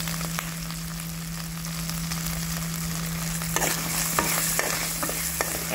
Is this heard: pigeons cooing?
no